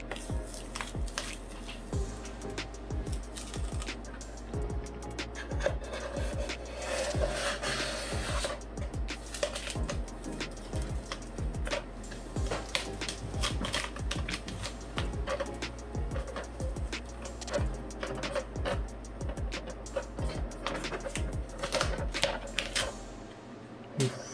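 A Cricut cutting machine slicing die-cut holiday stickers, a steady mechanical hum with rhythmic clicks and scraping passes of the blade carriage running continuously and close by.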